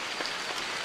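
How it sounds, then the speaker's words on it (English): Heavy rain falls steadily around a roadside stop on a ride from Darjeeling, a dense even patter of drops striking surfaces close by, with no voices heard. "It's completely raining out here."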